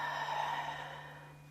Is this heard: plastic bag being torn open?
no